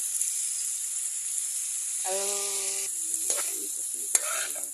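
Bean sprouts, cabbage and other vegetables are stir-fried in a pan, giving a quiet steady sizzle with occasional stirring scrapes and clatter. A short voice-like tone rises briefly in the middle.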